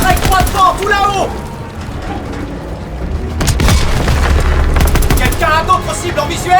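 Loud Panzerschreck explosions and bursts of gunfire in the video game Call of Duty WWII: rapid rattling shots, a deep booming blast rumbling through the middle, then more firing, with voices shouting amid the battle.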